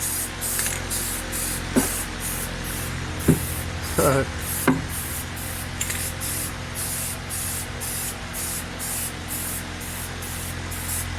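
Aerosol can spraying paint on a custom build's frame beside a running fan, hissing in rapid pulsed bursts almost continuously, with a few knocks and brief voice sounds in between.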